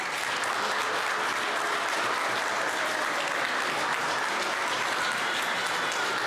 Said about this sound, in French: avec votre acclamation, accueillons le nouveau membre de notre communauté.